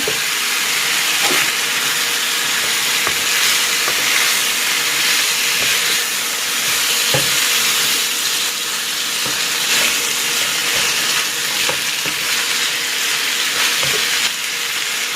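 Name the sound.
chicken sizzling in a frying pan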